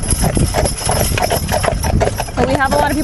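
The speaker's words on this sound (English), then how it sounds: "especially one that are pulling the wagon like this." Percheron draft horse pulling a wagon, hooves clip-clopping in a steady loud rhythm close by, with wheel and road noise underneath and faint talk in the background.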